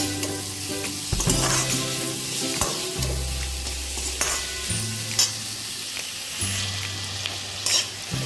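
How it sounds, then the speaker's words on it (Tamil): Onion and tomato with salt sautéing in a pan for a Tamil lunch recipe: steady frying sizzle with repeated stirring scrapes and clunks of a spoon against the pan, close and moderately loud, no talking. "நம்ம நல்லா வதக்கி விட்டுக்கலாம்."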